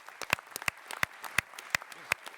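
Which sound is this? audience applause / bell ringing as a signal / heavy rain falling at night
audience applause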